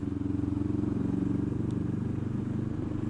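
A Honda CB500X motorcycle rides along a road in Devon and Cornwall, its engine a steady, close, even drone with a faint rhythmic pulse and wind noise, with no other sounds.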